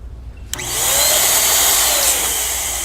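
Electric balloon inflator switching on with a sharp click, then a steady, loud motor whine and rushing air that holds close and constant while a balloon fills.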